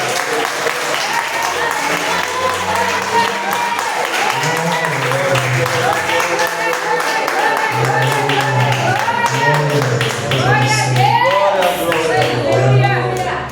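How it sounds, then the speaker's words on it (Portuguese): Applause of thanks from a church congregation, many hands clapping steadily and loudly over a musical backdrop with sustained low tones, lasting throughout. "as palmas lá de agradecimento"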